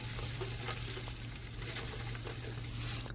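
Ginger and garlic sauté in oil with cumin seeds and curry leaves as a samosa filling begins, making a soft, continuous sizzle with faint stirring underneath and no voices.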